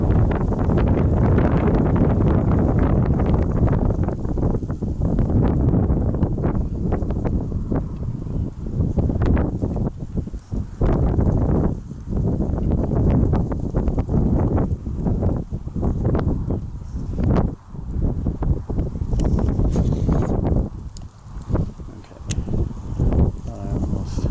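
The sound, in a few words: wind blowing while fishing outdoors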